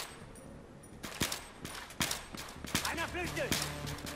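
Gunfire in the video game Battlefield 3: several sharp shots spaced about a second apart, followed by a quicker cluster of reports, with game effects and muffled voices in the background.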